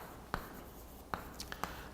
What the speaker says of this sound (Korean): 자, 한번 써볼게요